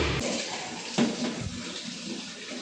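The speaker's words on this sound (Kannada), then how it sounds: "ಇಲ್ಲೆಲ್ಲ ಗಾಡಿ ತೊಳೆದಿದ್ದು ನೀರು ಇಲ್ಲೇ ಬಾಜುಕ ನಳ ಇರೋದ್ರಿಂದ ಇಲ್ಲೇ ತೊಳೆಯೋತಿದ್ದಾನೆ" Water runs steadily from a tap while a vehicle is washed outdoors, a continuous hissing splash with a few brief splatters and knocks.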